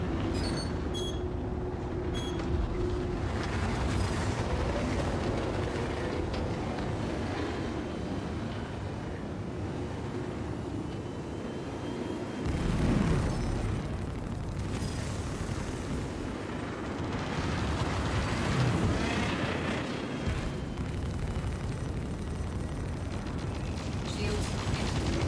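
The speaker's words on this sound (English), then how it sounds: "More missiles." Missiles fire and explode in a video game as continuous rumbling blasts and booming impacts, loud and dense throughout, with voices talking over them.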